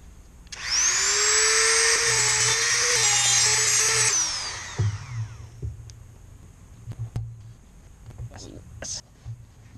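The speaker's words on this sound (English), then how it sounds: "drilling and tapping this out is not fun" A high-pitched power drill whines steadily for several seconds while drilling out a bolt on a Yamaha Warrior quad, then stops, followed by scattered metallic taps and clicks.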